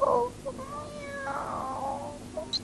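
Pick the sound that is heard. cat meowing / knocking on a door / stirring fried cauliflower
cat meowing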